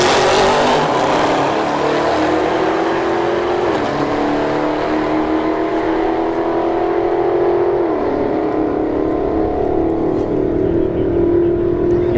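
Drag racing at Bradenton Motorsports Park with a 392 Scat Charger and a CL1 Camaro: loud, sustained engine roar runs throughout, with rising revs and two distinct gear-shift drops as the cars accelerate down the strip.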